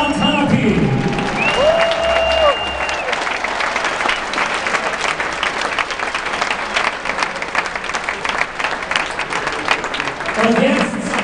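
A stadium crowd gives loud, sustained applause and cheering for Michael and Gerhard Hanappi standing at the centre circle, dense clapping filling the stands for over ten seconds with a few whistles and a voice over the loudspeaker early on.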